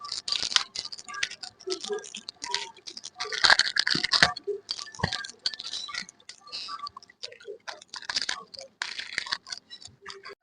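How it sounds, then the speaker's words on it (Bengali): Whole garam masala of cardamom, cloves and cinnamon is ground by hand, giving close, irregular scraping, rattling and clicking knocks in rapid bursts. "ততক্ষণে আমি গরম মশলাটা বেটে নিই।"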